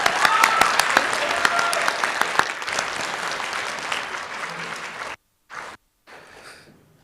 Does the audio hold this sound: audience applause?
yes